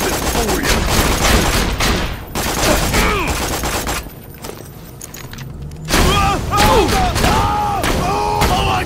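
Grenade blast and rapid gunfire in the Borderlands 2 shooter game, loud dense bursts of shots and booms with a brief lull midway before the firing resumes, with voices over the action.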